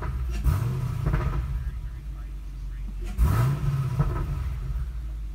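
A Chevrolet Camaro's engine idles with a deep rumble and is blipped twice, each rev swelling quickly and settling back, up close.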